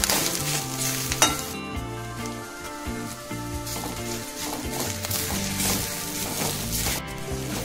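Garlic cloves roast and sizzle in a pan for a cauliflower masala, giving a constant close frying hiss with scraping and knocking as they are stirred, over a faint tonal background.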